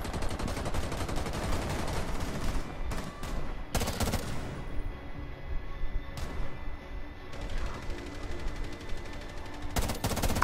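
Rapid gunfire in a Rainbow Six Siege match, loud bursts of automatic shots and sharp single cracks clustered in several volleys with short quieter gaps between them.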